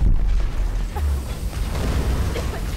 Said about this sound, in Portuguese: Uma explosão maior.